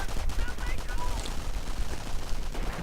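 MG42 machine gun and rifle fire in a World War II strategy game, a dense run of overlapping bursts and shots at steady loudness across the whole stretch.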